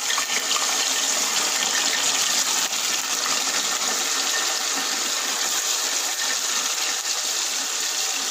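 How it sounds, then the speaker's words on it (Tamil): Anchovies deep frying in hot oil, a loud, steady, close sizzling hiss that runs unbroken throughout with no talking. "நல்லா டீப் ஃப்ரை ஆகிறது வரைக்கும் அது ஃப்ரை ஆகட்டும்."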